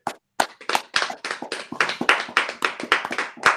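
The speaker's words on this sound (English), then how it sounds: "So let's give a round of applause to Julie." A small audience at a live Con of Thrones 2019 fundraiser interview claps for Julie: a handful of close, crisp individual claps that start after a brief pause, build quickly and continue in a loose, uneven rhythm.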